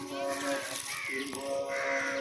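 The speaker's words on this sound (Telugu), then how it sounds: "ఈడ కాకులు, ఈడ పీకాకులు" Crows caw near a temple at Arunachalam, a few harsh calls rising over steady outdoor ambience while people talk nearby.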